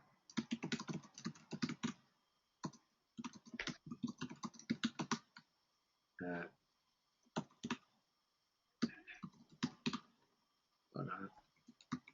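Bursts of fast typing on a computer keyboard, clustered key clicks separated by short pauses, close and fairly quiet.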